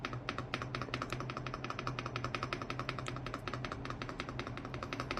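Rapid, steady clacking of a KREO Swarm 65 mechanical keyboard's spacebar, dense and rhythmic, close up with a low hum underneath and no talking.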